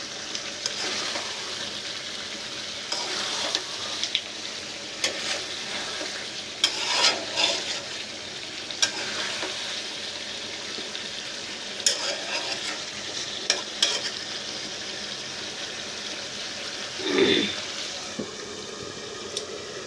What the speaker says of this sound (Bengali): মাংস কষাচ্ছি এখনো কষাচ্ছি